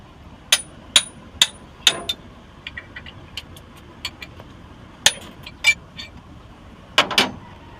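Sharp metallic strikes ring out at irregular intervals, several quick blows then scattered lighter taps, like hammering on metal against a low background rumble, during oil seal replacement on a Hyundai 3000-LC backhoe swing motor.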